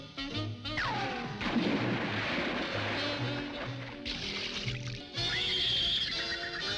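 A cartoon donkey in a Pink Panther short brays and whinnies loudly amid busy cartoon sound effects and music, with repeated harsh outbursts close up and no talking.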